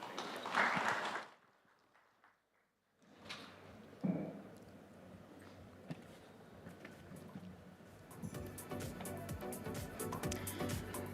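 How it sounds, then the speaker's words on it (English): An audience applauds at a real estate summit, the NDTV Real Estate Conclave. A brief burst opens the clip, then comes near silence, and fainter scattered clapping builds toward the end. "A round of applause, ladies and gentlemen, for that fascinating conversation"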